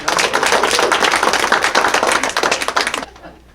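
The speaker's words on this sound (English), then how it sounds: "Let's give them a big round of applause." A burst of enthusiastic applause from a small crowd of adults at a family engagement workshop, many hands clapping steadily for about three seconds before cutting off abruptly.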